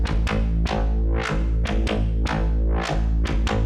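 A punchy synth patch from the Future Punk bank plays a driving rhythmic pattern of repeated bright, bass-heavy hits with sweeping tone, loud and alone.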